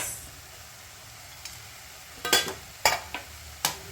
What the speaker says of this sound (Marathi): हे सगळं व्यवस्थित मिक्स करून घ्यायचंय